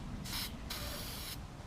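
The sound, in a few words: copper spray can spraying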